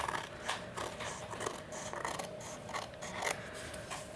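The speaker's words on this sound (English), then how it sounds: "And then I just use my scissors" Scissors trim the edge of a journaling card for a scrapbook album: a quick, close series of crisp, rhythmic snips and paper rustles with no talking.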